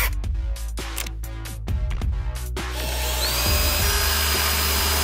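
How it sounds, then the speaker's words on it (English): A power drill whirs in several short bursts, then runs in one long continuous grind, close and loud with no talking. "We're gonna drill them right now."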